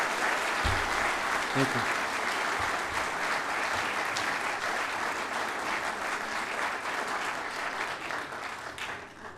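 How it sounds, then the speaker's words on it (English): Audience applause for a guest speaker at a lecture by a professor, a dense sustained clapping that fills the room and slowly tapers, with a brief spoken thanks near the start. "let's give him a round of applause as he talks."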